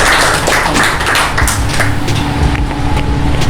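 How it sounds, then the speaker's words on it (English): An audience at a rewards and recognition ceremony gives a loud, close round of applause, with thick, sustained clapping that fills the whole moment. "One more time, a big round of applause."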